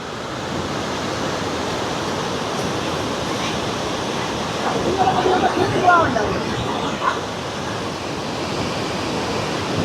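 Water roars steadily through the opened spillway gates of the Iranaimadu reservoir, a continuous loud broadband rush with slight surges midway.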